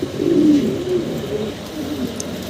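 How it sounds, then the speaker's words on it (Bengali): Fancy pigeons coo steadily and close by in a market setting, a low throaty rolling call that carries through the whole stretch with no talk. "ভালো ভালো কোয়ালিটির কবুতর পাবেন আপনি আজকে"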